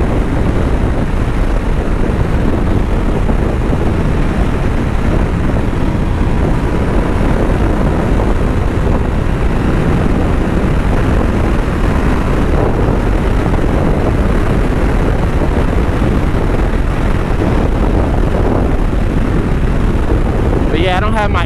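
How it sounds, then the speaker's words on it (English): Steady, loud roaring wind noise buffets the rider on a 2002 Honda VFR800 motorcycle ridden without earplugs, a constant broadband rush covering the engine for the whole stretch. "so like I can really hear the wind noise."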